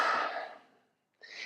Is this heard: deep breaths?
yes